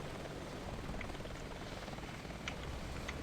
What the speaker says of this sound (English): There's a chopper over the back.